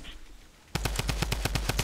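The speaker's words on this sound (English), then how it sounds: "That Tommy gun's not funny" A Tommy gun firing in a video game: after a quiet moment, a loud sustained burst of about a dozen evenly spaced rapid shots.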